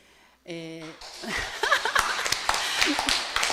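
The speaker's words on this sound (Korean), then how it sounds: "박수 치시라고 했더니 참 잘하십니다" Congregation applauding during a Korean Won Buddhist sermon at a Western U.S. training center, a steady patter of hand claps filling the hall after a brief tone, with scattered chuckles and a voice over it.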